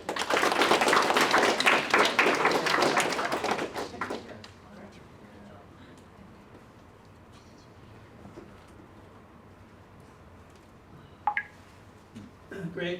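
Room audience at a keynote talk breaking into dense applause that fades out after about four seconds, leaving quiet room tone with a few faint knocks and clicks.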